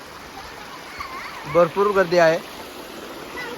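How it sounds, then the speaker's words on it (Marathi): Steady rush of flowing stream water at a lake where a crowd washes clothes, running as a constant wash beneath a voice briefly talking over it. "वाहतं पाणी आहे एकदम एकदम प्युअर वाहतं पाणी"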